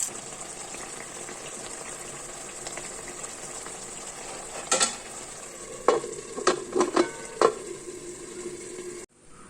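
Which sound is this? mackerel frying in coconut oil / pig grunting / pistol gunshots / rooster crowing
mackerel frying in coconut oil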